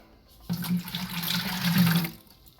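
Murky liquid being stirred and sloshed in a container while mixing a batch of apple pie mead, a steady watery swirling that starts abruptly, runs for about a second and a half nearby, then stops.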